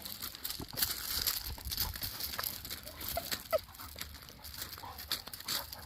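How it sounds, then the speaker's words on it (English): Dogs scuffle and play nearby, with soft growls, yips and pattering paws in short irregular bursts at a fairly low level. "my puppies want to have playtime"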